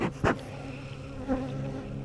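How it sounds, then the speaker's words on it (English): Honeybees buzz around an open hive during an inspection, a steady close hum with a few brief louder passes of individual bees. "A few bees that are getting a little testy here."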